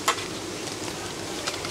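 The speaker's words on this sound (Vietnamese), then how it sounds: "Xúc xích chiên lâu." Sausages fry in hot oil at a street stall selling fried skewers, giving a steady close sizzle with a few light utensil clinks from stirring, and no voices.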